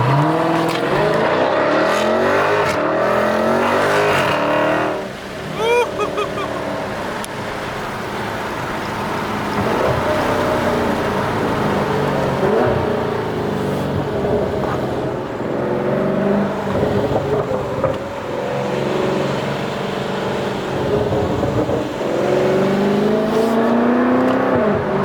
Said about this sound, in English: I'm gonna build the RPMs a little bit.